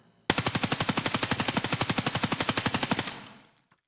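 Sustained automatic burst from a 9x19mm Parabellum weapon in Escape From Tarkov, about thirty rapid, evenly spaced loud shots over roughly three seconds, then a short ringing tail fading to quiet.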